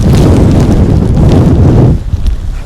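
Strong wind buffeting the microphone on an exposed ridge, a loud continuous rushing roar that drops away abruptly near the end into lighter gusts.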